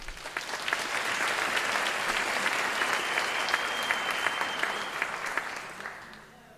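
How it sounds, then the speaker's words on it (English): A large audience gives a sustained round of applause at a university graduation ceremony, dense steady clapping that holds for several seconds and then tapers off at the end. "ladies and gentlemen, let's give them a round of applause, please"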